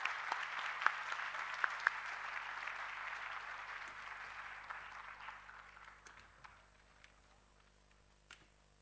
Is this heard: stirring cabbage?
no